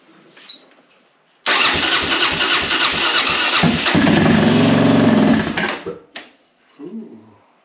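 A four-stroke machine's engine cranks and catches abruptly, then runs loud and rough for about four seconds before cutting out. A couple of faint pops and sputters follow in the quiet.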